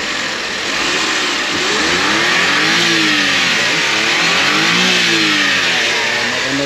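A car engine revs up and holds at high speed in a loud, continuous roar with rising and falling pitch, as its power is checked after starting, with no talking.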